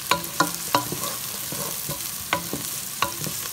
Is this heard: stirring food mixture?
yes